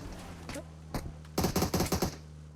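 Rapid bursts of automatic gunfire in the battle royale game BGMI, a quick volley of about seven shots in steady rhythm after a few scattered single shots, loud and close over a low game background hum.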